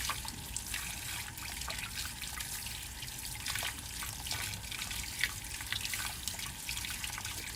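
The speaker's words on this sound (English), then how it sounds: "So I'm just going to put these in some water, rinse the dirt off" Water splashes and trickles as fresh beets are rinsed of dirt in a sink, a quiet, continuous sloshing with small drips.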